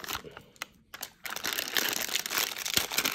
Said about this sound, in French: L'interrupteur, lui, dans son petit sachet, donc, qui est toujours scellé, qui est bien scellé. on va l'ouvrir